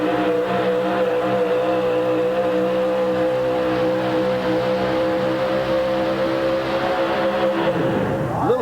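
A fuel-injected 525 cubic inch monster truck engine roars continuously at a 1989 arena event as the big tires spin, loud and close with a sustained droning growl that shifts slightly near the end.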